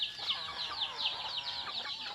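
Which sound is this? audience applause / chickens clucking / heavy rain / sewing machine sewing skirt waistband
chickens clucking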